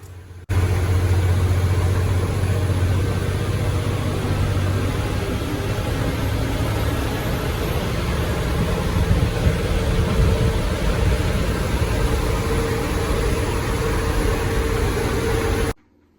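A KSRTC bus engine drones steadily from inside the cabin as it climbs the Palchuram mountain pass in Wayanad, a continuous low, loud mechanical hum with road noise and no talking.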